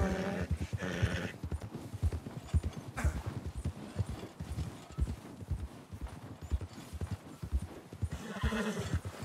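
A horse in Red Dead Redemption 2, in a snowy setting, walking with a steady clip-clop of hooves, breaking into loud whinnying neighs at the start and again near the end.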